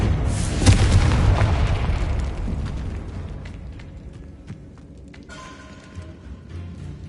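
A Confringo explosion spell in Hogwarts Legacy goes off with a deep, heavy boom that rumbles loudly, then fades into quieter crackles and small clicks over several seconds.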